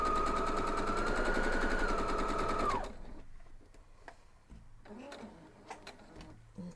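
Sewing machine stitching along a drawn line on a Flying Dutchman quilt block, a loud steady run of rapid whirring that stops abruptly, followed by faint clicks and handling noises.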